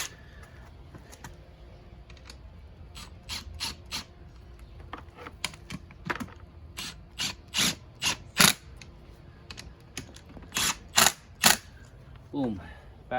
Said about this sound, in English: I'm going to tighten them up. Going to hit it with the gun.